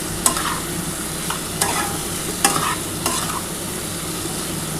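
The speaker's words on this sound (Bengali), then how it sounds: "খুব ভালোভাবে আগে প্রথমে মশলাটা কষিয়ে নিচ্ছি বন্ধুরা।" A spice paste fried down with a little ghee for a lentil-dumpling curry sizzles steadily, punctuated by four sharp spoon strikes or scrapes against the pan; no one talks.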